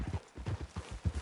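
A horse's hooves clip-clopping at a walk in the video game Red Dead Redemption 2, a quiet, even series of dull low thuds in a steady rhythm.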